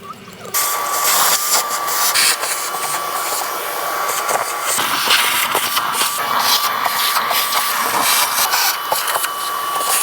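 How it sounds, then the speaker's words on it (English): A vacuum cleaner drones loudly and continuously with a steady whine, sucking debris out of an outdoor AC unit, with rattling and scraping as debris passes through. "I'll vacuum the rest."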